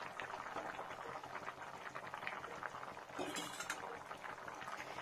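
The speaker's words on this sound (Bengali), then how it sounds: "কত সুন্দর ফুটছে।" A pot of potato, pea and paneer curry boiling on the stove, a steady bubbling simmer throughout with a brief louder burst of spluttering midway, close and alone with no voices.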